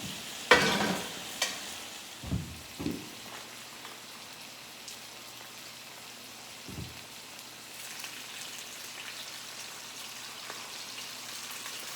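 Bacon fries in its grease on medium heat with a steady soft sizzle, with a few louder clinks and stirring knocks near the start and no talking.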